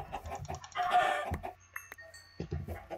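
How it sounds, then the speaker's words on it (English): Chickens in a video game cluck in short bursts, one of them ending in a strained crowing note. The clucks sound close and clear over a quiet game background, and nobody speaks. "So, I'm just going to start by killing some of these chickens."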